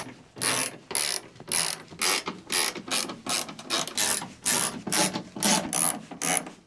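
A T30 Torx ratchet wrench clicks in repeated bursts while backing out the perimeter screws of a 2022 Toyota Tundra tailgate panel, close and crisp, with about a dozen rhythmic ratcheting strokes separated by short pauses.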